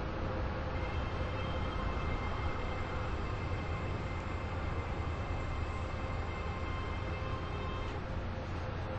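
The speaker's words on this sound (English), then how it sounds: "The train now approaching platform 14 terminates here." A passenger train rumbles into a station platform, a loud, steady broadband roar with a faint whine that holds throughout, no pauses and no clear speech on top.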